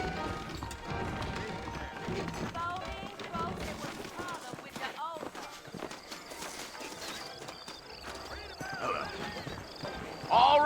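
Steady clip-clop of horse hooves trotting through a busy Red Dead Redemption soundscape, with voices and background music layered over the hoofbeats.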